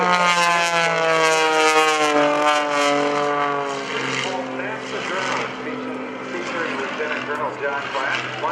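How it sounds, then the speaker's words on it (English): A Panzl F-330 aerobatic airplane flown by an Air National Guard pilot at a Rhode Island airshow, its engine drone strong and steady with pitch swells as it maneuvers, while people talk over it. "John Klatt, flying the Air Guard Panzl F-330"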